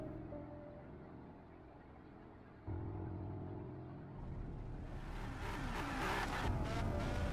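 A car engine rumbles and then revs up as the car drives off, growing louder with a sharper, rising engine note toward the end, heard alone with no talking.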